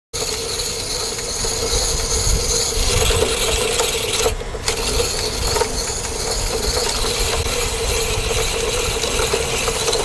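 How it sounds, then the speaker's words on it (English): A hand-held coconut scraper rasps steadily against the flesh of a coconut in continuous gritty strokes, close and fairly loud, with a brief pause partway through and no speech. "We start scraping from here, then go inside, go up to here."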